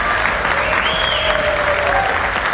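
Dense applause from a large crowd fills the clip, steady and loud throughout, with faint cheering tones rising above the clapping.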